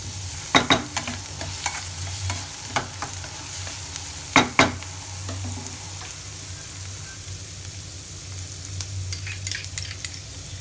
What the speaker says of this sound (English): Fry them nicely. Our flame should be high.